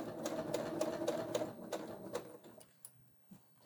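A sewing machine stitches a pleated pouch, a quick rapid needle chatter at close range that runs for a few seconds, then slows and stops, leaving quiet handling noises.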